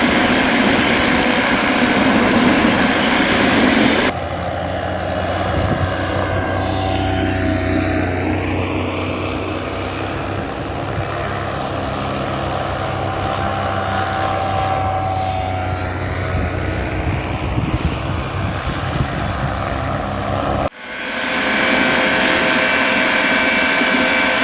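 Light aircraft engine droning steadily through a low-level formation departure, loud and continuous with a sustained hum, swelling and shifting as the plane climbs away, then cutting off abruptly near the end.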